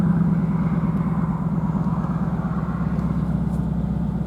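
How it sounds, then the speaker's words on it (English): A Ford Mustang V8 rumbles close by, a deep, steady throb of engine tone holding even throughout with no voices over it. "if I start the car up, it rumbles into action"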